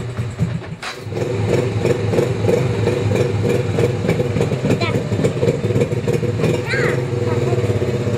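A small motorcycle engine, still cold, catches after a brief shuffle and settles into a loud, close, throbbing run with rising revs; voices can be heard faintly at moments.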